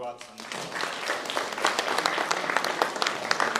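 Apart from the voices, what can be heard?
audience applause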